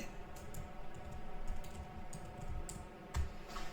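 Fingers tap on a computer keyboard in soft, irregular clusters of keystrokes, close and quiet against a low steady hum.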